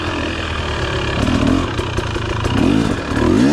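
A 2023 KTM 250 XC dirt bike engine buzzes while riding at an easy pace, its note swelling in short revs and dropping back, close and loud throughout.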